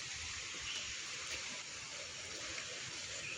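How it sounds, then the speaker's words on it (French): Distant waterfall at the Anse des Cascades on Réunion, a steady broad rushing roar with no breaks, carried from afar. "On entend la cascade de là."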